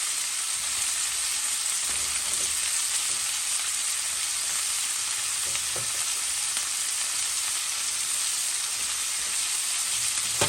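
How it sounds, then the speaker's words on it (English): Onion frying in a pan for hot links, a dense, continuous sizzle with a few faint utensil taps, steady and close with no talking. "So just throw your onion in there."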